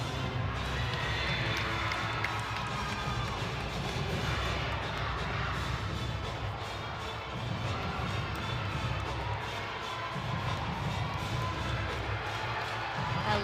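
Gymnastics teammates cheer for a competitor at an Ohio State versus Minnesota meet, their crowd noise and shouts sounding fairly faint and distant, with a commentator talking over the arena ambience.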